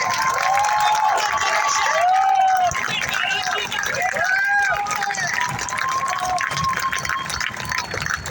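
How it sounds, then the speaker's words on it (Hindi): A crowd at a protest claps and cheers, with scattered whoops and shouts rising over dense, steady applause. "जिब्रान नासिर के लिए इतनी तालियां होनी चाहिए"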